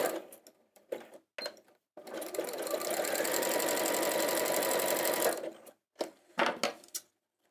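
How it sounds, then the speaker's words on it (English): An Elna 550 sewing machine stitches a close satin stitch for a solid border, whirring steadily for about three seconds between short start-stop bursts of needle chatter, close up and with no talk. "if I'm sewing with a very close satin stitch, so I want a solid border"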